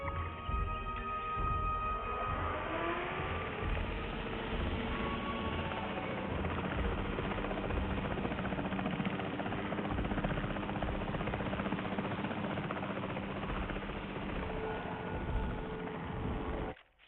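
A capture team helicopter in the video game Jurassic World Evolution 3 drones with a dense, steady rotor roar that holds loud and constant before cutting off abruptly at the end, with no voices.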